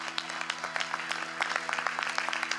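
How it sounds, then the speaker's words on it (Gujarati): An audience at a Murti Pratishtha Mahotsav festival in Melbourne claps for the saints in a scattered, fairly loud round of applause over a low steady hum. "મારા બધાએ પ્રેમાળ સંતોને એક વખત જોરદાર તાળીઓથી વધાવો"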